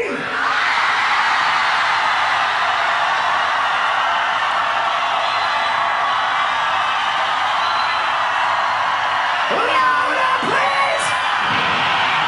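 A large festival crowd at a concert screams, whoops and cheers in a loud, sustained roar that fills the whole stretch, with a few louder yells standing out near the end.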